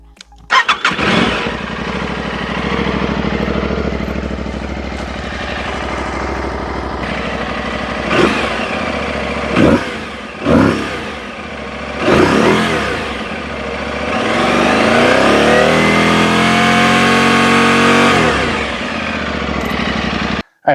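An Aprilia Tuareg 660 motorcycle with a Dominator exhaust starts up close by and idles loudly. Several sharp revs punctuate the idle before a long, rising rev and a return to idle.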